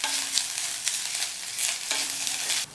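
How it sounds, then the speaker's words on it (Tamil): Grated coconut fries in ghee with a soft, airy sizzle and a few brief stirring scrapes during a short burst of cooking. "இந்த தேங்காய் துருவல் நெய்லேயே நல்லா வதங்கட்டும்"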